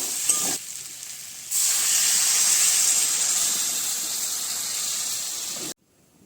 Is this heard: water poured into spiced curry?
yes